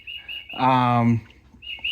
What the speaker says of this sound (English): my bird clock's going off